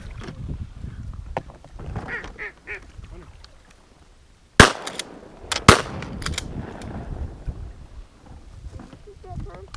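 Shotgun blasts while duck hunting, two sharp loud reports about a second apart standing out over scattered duck quacks, water noise and low talk from the hunters.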